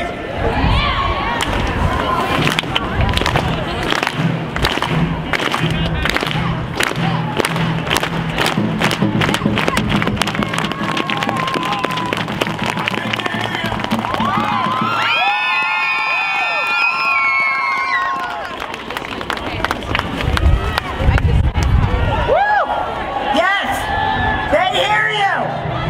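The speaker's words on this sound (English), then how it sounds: "I want you to clap with me. I want to start it really slow" A rally crowd at a student gun-violence march in Buffalo, New York claps together in a steady rhythm that slowly builds, with cheering and shouting voices mixed throughout and a brief burst of whistles or high cries partway through.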